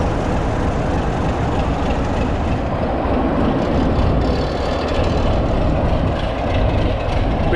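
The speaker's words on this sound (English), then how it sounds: "A Crompton Parkinson engine." A diesel locomotive with a Crompton Parkinson engine at a heritage railway diesel gala, running close and loud with a steady rumbling drone and rail noise throughout, no voices.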